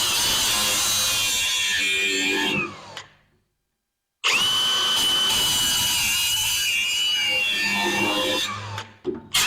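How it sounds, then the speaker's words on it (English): An angle grinder grinds metal off a van in a long, loud continuous whine, cutting out briefly midway before the same harsh grinding resumes and runs on. "all I seem to be doing is just grinding it off"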